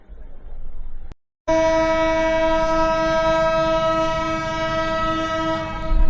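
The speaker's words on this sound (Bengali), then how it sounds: "আমাদের ট্রেনটা ঠিক দশটা পঁয়তাল্লিশ মিনিট সময় নিয়ে হচ্ছে স্টেশন থেকে ছেড়ে দিল কমলাপুর রেল স্টেশন থেকে" Train leaving Kamalapur railway station in Dhaka sounds a long, loud, sustained horn after a brief pause in the background rumble, the blast holding steady for several seconds close by.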